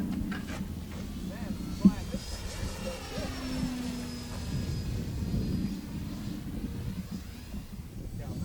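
An E-Flite 1.5m T-6 Texan radio-controlled model airplane drones as it flies past at a distance, its faint engine tone shifting in pitch, partly buried under steady wind rumble on the microphone.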